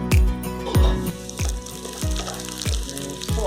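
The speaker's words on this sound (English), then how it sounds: "So onion is almost fried." Onion frying in a pan, a steady sizzle broken by a regular knock of a spatula against the pan roughly every half second, close and fairly loud.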